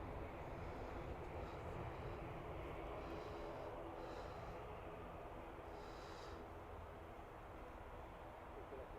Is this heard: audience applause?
no